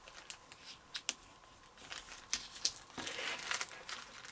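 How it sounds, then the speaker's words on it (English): Duct tape ripped in half lengthwise while making a no-sew crochet hook case: a string of short, crackly tearing bursts, then a longer sustained rip toward the end, close and fairly quiet. "I'm going to take a piece of duct tape, rip it in half, long ways."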